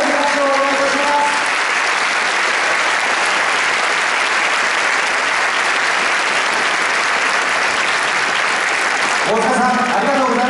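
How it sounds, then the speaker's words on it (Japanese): A large crowd gives loud, sustained applause at the Kawasaki Frontale 2015 new-team announcement event during an on-stage presentation, a thick steady roar of clapping; a voice speaks over it briefly at the start and again at the end. "皆さん、大きな拍手をお願いします。"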